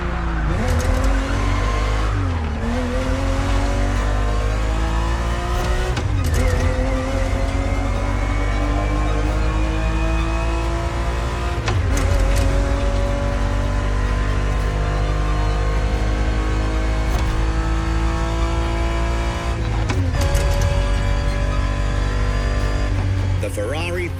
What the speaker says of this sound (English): The Ferrari 365 GTB4 is the perfect vehicle for you to experience Ferrari racing as it felt back in the 70s